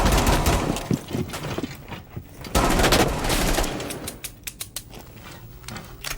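Rapid gunfire from Rainbow Six Siege, bursts of automatic shots with mechanical clatter and impacts, loud and close, in separate volleys with brief gaps.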